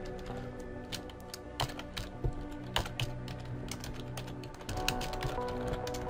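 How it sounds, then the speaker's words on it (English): Rapid clicking on a computer keyboard fills the whole stretch, a close, steady run of sharp key taps in irregular bursts over a low hum, with no voices. "Typing always goes when on camera."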